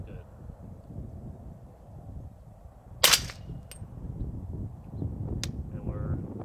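A suppressed 16-inch AR-15 fires a subsonic 300 Blackout round at a 400-meter range. One sharp, muffled crack stands out against steady wind noise outdoors, followed a couple of seconds later by a fainter, shorter snap.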